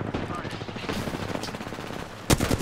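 Rapid automatic gunfire crackles through a video game firefight, dense bursts running continuously before a louder, closer volley near the end, with players talking over it.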